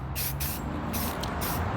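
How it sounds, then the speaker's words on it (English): Several short hissing bursts of spray paint, each lasting a fraction of a second with brief pauses between, close by over low background rumble. "so while I got the black spray paint,"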